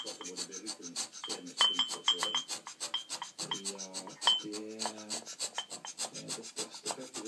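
Hand scraping on the cast-iron column guideway of a Schaublin SV52 milling machine, a close series of quick rasping strokes in a steady rhythm, with occasional faint squeaks.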